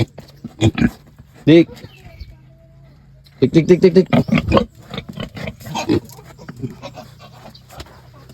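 A sow in heat on a pig farm, exposed to boar odorant, lets out short squeals and grunting bursts at close range, mixed with people talking nearby over a low steady hum.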